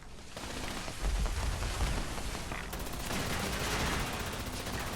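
Rapid, sustained bursts from a laser turret in Fallout 76, a dense, continuous crackling barrage that stays loud throughout with no talking over it.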